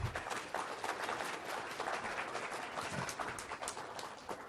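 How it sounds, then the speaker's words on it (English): An audience gives a round of applause for Ben at a talk in Sitka, Alaska, a continuous, fairly dense patter of many hands clapping with no voices over it. "How about giving Ben another round of applause?"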